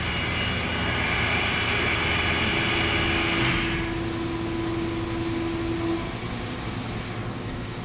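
A CNC mill runs with its spindle turning and coolant flowing, a loud steady machine roar and wash with a sustained tone that holds for several seconds, then drops away as the wash continues.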